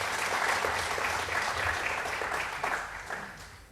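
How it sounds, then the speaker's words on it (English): An audience applauds a panelist at a conference on the transition to a net-zero economy, a steady dense patter of many hands that runs the whole time and eases slightly near the end. "Please clap for Dennis Karaoke."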